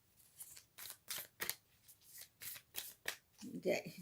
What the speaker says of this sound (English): These cards are so I really love them, but they're very hard to shuffle because going all directions.